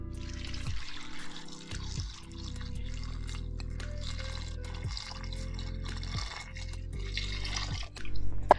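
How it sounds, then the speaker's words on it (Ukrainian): Water pours steadily over potatoes in a pot, a continuous trickling splash with low rumbling underneath, rising briefly louder near the end. "А зараз наливаємо води стільки, щоб вода була вищою за викладену картоплю"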